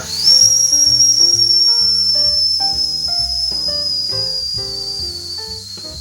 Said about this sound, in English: release some of the pressure off the boiler